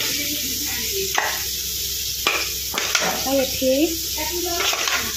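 River fish frying in hot oil in a home kitchen, a steady close sizzle running throughout while people talk over it.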